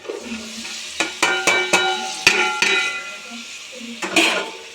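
Chopped ridge gourd pieces sizzle in a pan with turmeric, with a steady close frying hiss broken by sharp clinks and scrapes of a metal spoon stirring against the pan.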